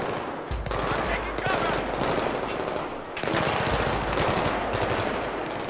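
Rapid automatic gunfire in the video game Battlefield 3, dense bursts rattling continuously with a short gap partway through, loud and close.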